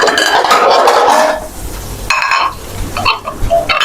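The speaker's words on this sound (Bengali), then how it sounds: "টেবিলে এসে বসো, আমি টেবিলে যে প্লেট দিয়ে দিচ্ছি" Plates are set down on a table in a home kitchen where cooking is under way. Loud ceramic clatter and clinking come close by in several bursts with brief pauses between them.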